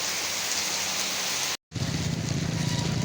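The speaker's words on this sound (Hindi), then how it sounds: "काफ़ी तेज़ बारिश हो रही है और अच्छा है, मतलब बारिश होना बहुत ज़रूरी है।" Heavy monsoon rain pouring down on a road in Kotdwar, a dense continuous roar, loud and close, broken by a brief gap of silence halfway through.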